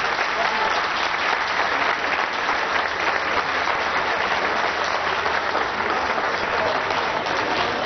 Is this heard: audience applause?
yes